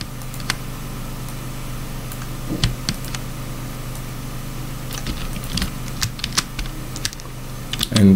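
Computer keyboard keys pressed during image editing in Photoshop, scattered sharp clicks at irregular intervals over a steady low hum, with a quick cluster of presses near the end.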